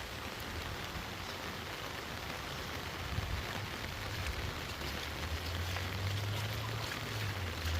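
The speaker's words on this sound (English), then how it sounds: "Well, I think it's raining here." Steady rain during Cyclone Jasper in Cairns, a dense, even hiss of drops on surfaces with a low rumble underneath, continuous and moderately close.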